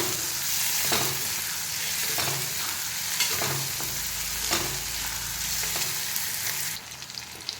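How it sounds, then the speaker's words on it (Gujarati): Onions stirred into hot oil with asafoetida in a frying pan sizzle steadily up close, broken by repeated scraping strokes of the spoon every second or so. The frying fades abruptly near the end, and no one speaks. "આપણે નાખીશું એમાં કાંદા, અને એને સારી રીતે આપણે મિક્સ કરી દઈશું."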